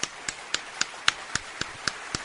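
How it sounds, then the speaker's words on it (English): Steady, evenly spaced single hand claps, about four per second, crisp and close, on a radio talk show, with no voices over them. "I want to give Timothy W. a shout out and an applause"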